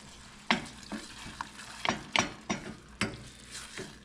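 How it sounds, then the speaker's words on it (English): White wine and cognac bubble and sizzle in a hot pan as a spoon scrapes and stirs in a run of sharp, close strokes about every half second over a low simmering hiss. "we want to deglaze with the white wine. It's about 1/4 to 1/3 of a cup, and 1 to 2 tablespoons of cognac. Stir that up"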